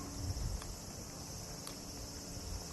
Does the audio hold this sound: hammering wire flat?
no